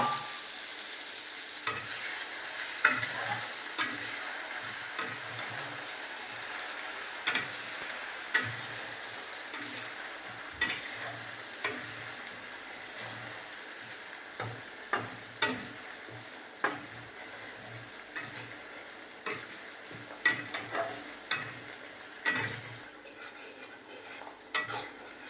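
Ginger and chillies frying in a pan under a steady sizzle while a spoon stirs them, sharp metallic taps against the pan recurring every second or two, close and with no voices.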